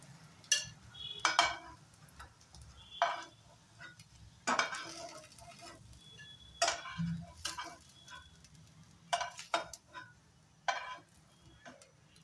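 Fried lentil pakoras lifted out of a pan with a metal utensil: sparse sharp clinks and scrapes against the pan, separated by quiet gaps, over a faint low sizzle.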